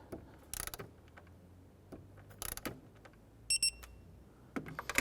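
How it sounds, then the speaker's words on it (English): A torque wrench tightens valve cover coil bolts to 62 inch-pounds on a 2011-2018 Ram 1500, giving several short bursts of quick ratcheting clicks separated by quiet pauses, close and fairly crisp. "let's go ahead and torque down our coil bolts to 62 inch-pounds"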